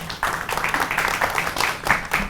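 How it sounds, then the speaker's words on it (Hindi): Studio audience applauding a guest as he is welcomed onto a morning talk show stage, a dense, steady wash of clapping held at even loudness throughout. "सबसे पहले तो हम अरशद भाई के लिए तालियां बजाएंगे बहुत सी"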